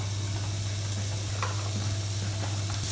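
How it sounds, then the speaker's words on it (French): Carrots and onions fry in a spoonful of olive oil in a pan, giving a steady, close sizzle with a constant hiss and small crackles, with occasional stirring noises. "une petite cuillère à soupe d'huile d'olive juste pour venir faire colorer donc, les premiers légumes"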